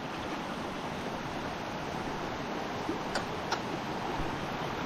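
River water after a typhoon rushes in a steady, dense wash of broadband noise with no letup, close and fairly loud, a couple of faint ticks over it and no talking.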